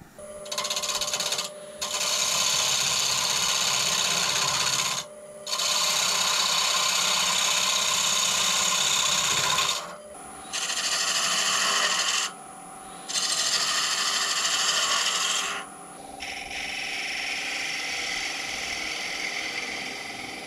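Metal lathe turning a bottle opener blank held in the chuck jaws with the tailstock brought up, a steady loud mechanical whir with rasping, ratchet-like texture running in several long stretches broken by brief stops, then a quieter tail.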